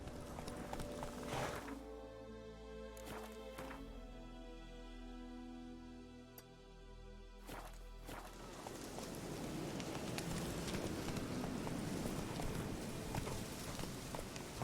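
Roach, the horse in The Witcher 3, gallops with rhythmic clip-clop hoofbeats and a whinny, amid music-like tones, then the steps give way to a broad rushing wash like rain over the last several seconds.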